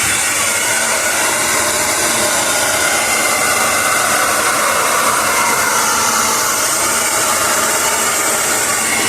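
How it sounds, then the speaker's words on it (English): A hair dryer blows steadily on its cold, high setting, a loud, continuous close-up airy roar with no talk over it. "let's get into blow drying. Alrighty, so we start off with cold and high."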